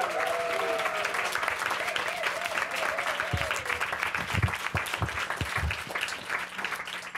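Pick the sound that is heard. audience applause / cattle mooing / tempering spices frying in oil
audience applause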